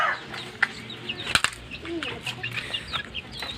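Racing pigeons stir inside their loft, with soft flapping wings, scattered coos and shuffling close by, and a voice talking quietly now and then.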